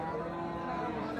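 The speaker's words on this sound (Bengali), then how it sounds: "আর এই গরুগুলো কার জাকু ভাই?" Cattle low at a rural livestock market where Gir and Sahiwal breed bulls are sold, a steady drawn-out moo sitting under the general noise of the market.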